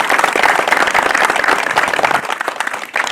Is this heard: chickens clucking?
no